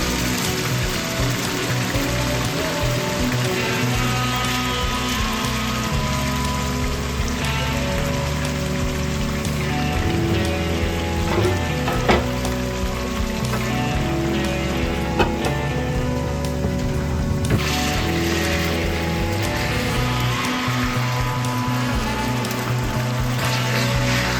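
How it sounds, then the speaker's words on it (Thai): Marinated pork sizzles and crackles continuously as it fries in hot oil in a pan, a dense, even spattering hiss that stays loud and close throughout. "พอน้ำมันเริ่มเดือดนะคะเพื่อนๆก็เอาหมูของเราลงไปทอดเลยนะคะ"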